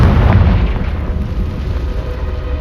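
A Confringo spell explosion in Hogwarts Legacy: one loud, deep boom that starts at once and then decays into a rumbling roar over a couple of seconds, with no talking.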